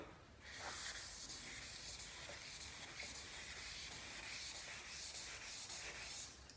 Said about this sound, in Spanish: voy a volver a cambiar el sentido de la lija para ver hasta dónde, o sea, cuánto tengo que trabajar para eliminar las rayas